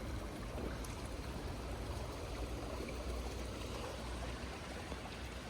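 Water from a mountain stream runs steadily down into a garden pond in Switzerland, a constant even rush and trickle with no voices over it.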